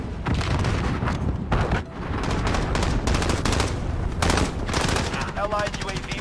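Dense gunfire in Call of Duty: Modern Warfare, loud machine-gun bursts and overlapping shots with booming impacts, continuous and close for the whole stretch, with faint voices beneath.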